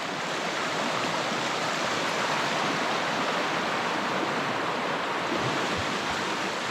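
A high, fast stream rushes through Lapland fells, a dense, loud, unbroken roar of water close by with no voices.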